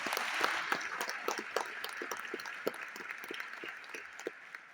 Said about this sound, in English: Give our state leaders a round of applause.